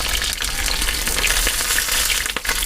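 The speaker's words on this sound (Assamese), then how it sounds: "ইয়াত ফুলকবিখিনি দি দিম গুটে সবজিখিনি দি মই একদম ধুনিয়াকৈ এখিনি ভাজি লম" Potatoes and cauliflower frying in oil in a pan for moong dal khichdi give a loud, steady, close sizzle with a crackling hiss throughout.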